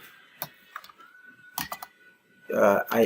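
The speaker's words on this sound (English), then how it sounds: "you can just type here" A few scattered clicks from typing on a computer keyboard, sparse and fairly quiet, followed by a voice speaking at the end.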